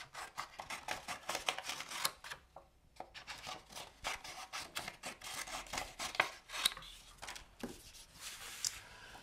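A blade slices strips off a piece of card at close range, producing quiet repeated scraping cuts in quick bursts with a short pause partway through.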